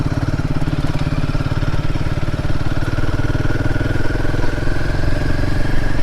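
A Royal Enfield Himalayan 450 motorcycle engine runs steadily with a continuous low, throbbing rumble, up close and loud, with slight shifts in pitch as it rolls along.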